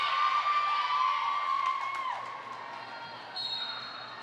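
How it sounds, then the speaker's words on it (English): Home fans cheer and shout in a gym at a high school volleyball match between Minneapolis Washburn and Benilde-St. Margaret's, with a mid-level crowd roar and a few high whoops that fade, followed by another swell. "Her having the ball brings a cheer from the fans here at home at Benilde."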